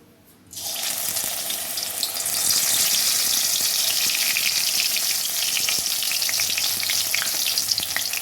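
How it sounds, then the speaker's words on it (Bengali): Water lily flower fritters frying in white oil, a steady dense sizzle that starts abruptly after a brief quiet moment and holds loud and continuous, with no talking. "তেল ঢেলে দিয়েছি, সাদা তেল দিয়ে আমি ভাজবো।"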